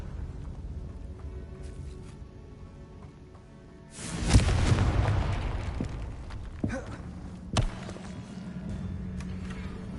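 Confringo fire spell explosion in the Hogwarts Legacy video game: a loud burst erupts about four seconds in and rumbles for a couple of seconds, followed by a few sharper pops over steady game ambience.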